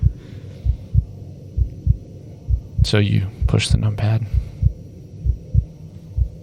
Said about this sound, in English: I'm not the only one that hears the heartbeat noise, right?